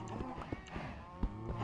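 Cattle mooing in the Minecraft video game, several low moos overlapping in quick succession with a few soft thumps, fairly close and loud.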